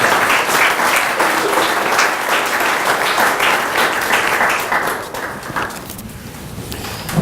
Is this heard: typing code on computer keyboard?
no